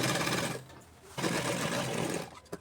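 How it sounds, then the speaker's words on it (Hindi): A sewing machine runs in two steady stitching bursts with a short pause between, sewing palazzo pants, loud and close with no talk. "ऊपर से सिलाई लगा देना है।"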